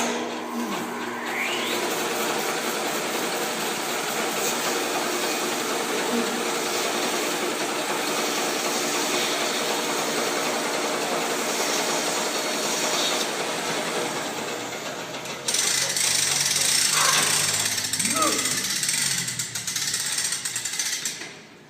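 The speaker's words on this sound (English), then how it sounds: "That's why we put it on the bandsaw." A bandsaw runs at a sawmill, a loud, steady mechanical clatter and whine that holds for a long stretch, then shifts in tone near the end as the cut changes, with no voices.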